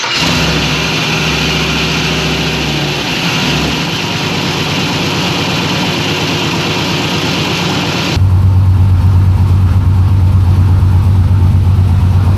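Turbocharged LS V8 swapped into a 1954 Chevy fires up and runs, a loud steady engine roar that settles into a deeper, heavier idle rumble partway through, with no talking.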